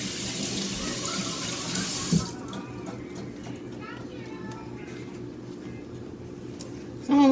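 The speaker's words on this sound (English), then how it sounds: "And I will rinse my hand." Water runs from a kitchen tap for about two seconds as a hand is rinsed while making crab cakes, then stops, leaving quiet clinks and a brief voice.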